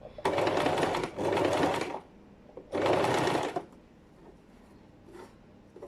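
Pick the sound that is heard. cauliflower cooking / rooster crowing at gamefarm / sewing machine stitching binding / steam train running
sewing machine stitching binding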